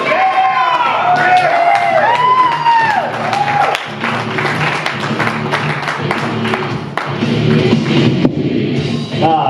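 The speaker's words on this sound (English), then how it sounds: "So start that applause, start that energy" A comedy-show audience claps and cheers loudly, whoops and shouts rising over sustained applause, while a voice talks over the noise.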